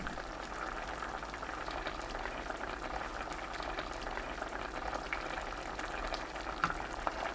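Braised raw tofu simmers in broth in a pan over medium heat while it is basted, giving a steady, close bubbling and sizzling texture that runs evenly throughout with no voices.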